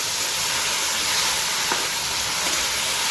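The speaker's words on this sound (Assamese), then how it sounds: "দালিটো অলপ ভাজি লওঁ" Dal fries in a pan with a steady, even sizzle and hiss that runs unbroken throughout, close and moderately loud, with no voices over it.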